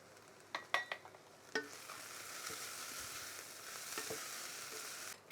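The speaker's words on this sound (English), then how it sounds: "Get that stirred in" Cinnamon being stirred into a plant-based moussaka sauce in a pan, with a few quick scraping clicks of a spoon at first, then a steady low sizzle and occasional stirring taps, no voices.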